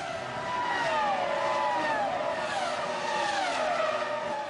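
Formula 1 race cars at the 2005 Japanese Grand Prix, high-pitched engines whining as they scream past, several overlapping pitch sweeps rising and falling, moderately loud and without talk.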